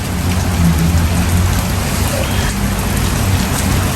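Steady rain pours down in a dense, even hiss with a low rumble underneath, constant for the whole stretch and fairly loud.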